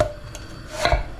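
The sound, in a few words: chopping red onion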